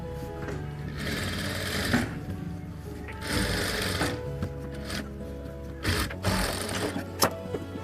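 A sewing machine stitches a half-inch seam on a katori blouse sleeve in several close, rattling bursts separated by short pauses, loud and near, with no voices.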